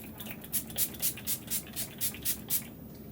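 A COVERGIRL face mist is sprayed in about nine short, evenly spaced hissing bursts, close and fairly soft.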